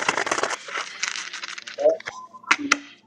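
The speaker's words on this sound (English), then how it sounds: "Love a good shuffle." Tarot cards are shuffled on a table in a few quick papery riffles and flicks, close and crisp, followed by a couple of sharp taps.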